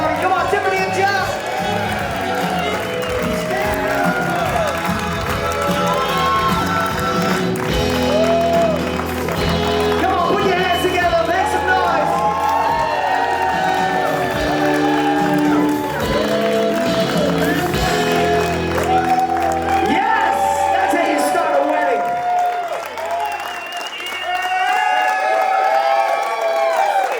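Wedding guests applaud and cheer for the bride and groom at a reception, a long continuous swell of clapping, whoops and crowd noise mixed with music and voices.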